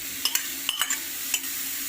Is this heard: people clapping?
no